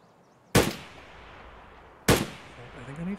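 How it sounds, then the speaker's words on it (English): Two sharp gunshots ring out in Escape from Tarkov, spaced about a second and a half apart, each a hard crack with a short decaying tail, loud against a quiet background, with faint voice-like sounds near the end. "I don't know where this guy's shooting at me from."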